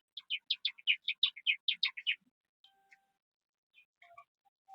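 Pet birds, the small cage birds of a home aviary, chirp in a fast run of bright repeated notes for about two seconds, then give a few scattered quieter calls, close by with no talking.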